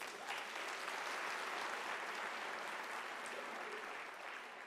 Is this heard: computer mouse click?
no